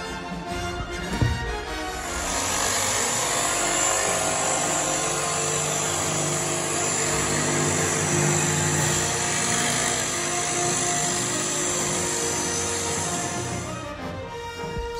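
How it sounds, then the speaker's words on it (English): A jigsaw cuts a Darth Vader figure out of plywood, a steady high-pitched whine with a rough buzzing saw rasp running continuously for about twelve seconds before stopping. "use a jigsaw to cut him out"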